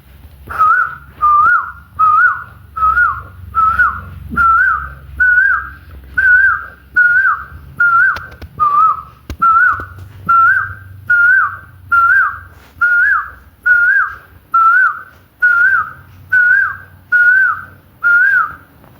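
At a stage mimicry show, a voice imitates an Asian koel call with a whistle, repeating a rising two-note phrase about eighteen times in a steady rhythm, loud and close.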